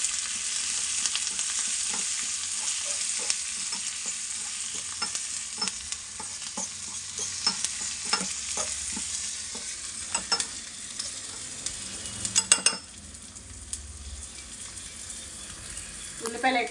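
Onions frying in a pan make a bright, continuous sizzle close by, broken by repeated scraping stirs and a cluster of quick clatters toward the end.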